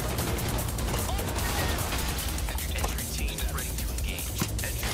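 Gunfire in the Crime Boss Rockay City money train heist, a dense, continuous spray of shots and crashes filling the whole stretch, with bursts stacking over one another beneath people talking.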